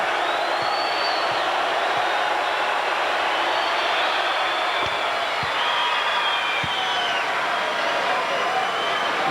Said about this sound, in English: The crowd asking for another air ball.